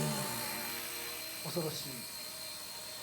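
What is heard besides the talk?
Blade Nano CP S RC helicopter flying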